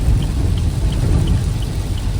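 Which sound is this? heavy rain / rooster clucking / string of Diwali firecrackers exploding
heavy rain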